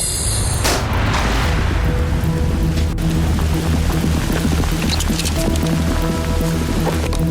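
Steady rain falls hard and close, a dense continuous hiss of drops on surfaces with scattered louder splatters, and no one speaks.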